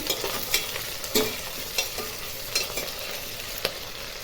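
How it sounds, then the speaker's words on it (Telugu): Diced potato and green chillies frying in hot ghee with a steady sizzle, while a spoon stirs the pan in several sharp scrapes and clacks scattered through the mix. "నెయ్యిలో బాగా వేగాలి."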